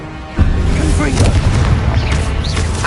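Confringo blasting spell explosion in Hogwarts Legacy, a deep booming blast that bursts in sharply and keeps rumbling loudly through the rest, with a voice calling out over it.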